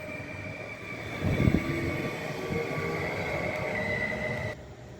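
An SKM Stadler FLIRT electric train pulls out of a station, a steady loud rolling rumble with a sustained whine that holds, then cuts off abruptly near the end.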